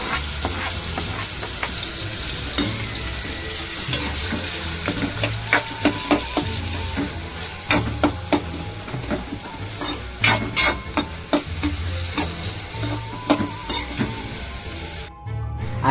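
Finely chopped onion, tomato and green chili frying in oil in a kadhai, a loud continuous close sizzle with frequent scraping and clattering stirring strokes that grow busier toward the end.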